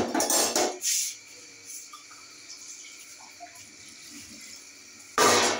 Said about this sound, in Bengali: আমি দিয়ে দিচ্ছি আলু এবং দেখতে পাচ্ছেন ধনে পাতা আর একটু জল দিতে